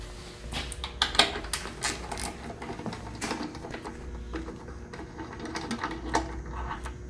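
Bolts being loosened on a 2018 Yamaha R1M sport motorcycle during a windscreen install: a steady run of small mechanical clicks and tool rattles, close and moderately loud, with no talking.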